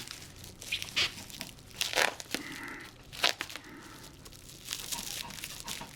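Packing tape peeling and tearing off a cardboard box of hobby paints in several short ripping bursts, with crinkling of the cardboard between pulls.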